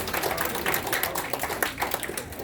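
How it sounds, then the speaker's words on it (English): A small audience at a public speaking workshop applauds, brisk close clapping with audible individual hand strikes, steady and fairly loud across the whole stretch. "Let's get a round of applause for all of our"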